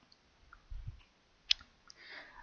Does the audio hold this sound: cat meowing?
no